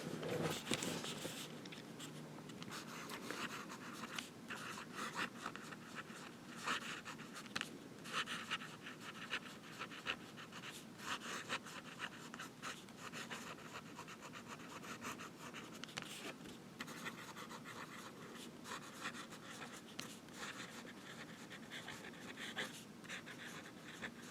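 A smooth, wet 14K gold Jim Hinze fountain pen nib writes steadily on paper, giving a continuous soft scratching and gliding sound of strokes close up, with no talking.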